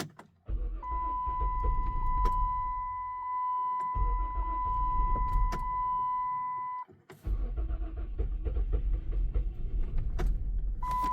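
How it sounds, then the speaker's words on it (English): A Chrysler Town and Country minivan with an injector misfire cranks over and starts, heard close with a steady motor hum, a brief drop before the engine catches again and runs roughly, with no talking. "Alright, let's start it now."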